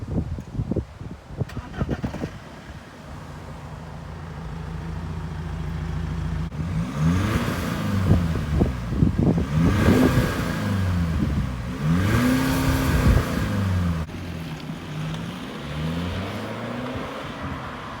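The exhaust of a diesel BMW E90 318d with a modified backbox idles with a low rumble, then is revved repeatedly in deep, throaty bursts that rise and fall before settling back to idle.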